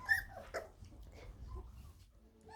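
Springer Spaniel puppies, three to four weeks old, whimper and yip softly in a whelping pen, faint and close, with brief high squeaks over low rustling.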